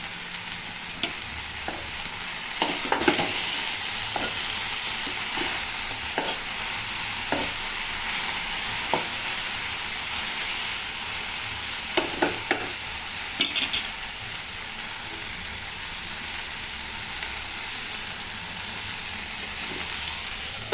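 Garlic frying with okra in a pan for an okra curry, a steady broadband sizzle running throughout with scattered clicks and scrapes of stirring, close and alone without talk.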